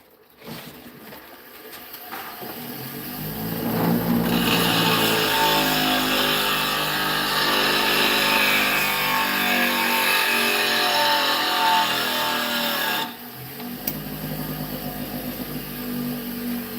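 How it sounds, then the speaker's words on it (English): A spindle roughing gouge being sharpened: a steady, loud, broadband grinding whir that starts abruptly, holds for about nine seconds, then cuts off, with quieter mechanical hum before and after and no voices. "I'm going to sharpen my spindle roughing gouge real quick."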